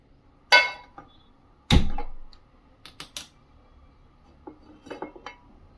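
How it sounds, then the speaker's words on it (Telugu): A frying pan is set down on a stove with a couple of sharp metallic clanks, followed by lighter clicks and taps as the burner is lit, close and sparse with quiet gaps. "ఇప్పుడు వచ్చేసి మనం ప్యాన్ పెట్టుకొని స్టవ్ వెలిగిద్దాం."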